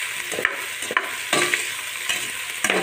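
Pork lomi ingredients frying and being stirred in a hot pan, with a steady close sizzle broken by several scraping stirs over a few seconds; no voices.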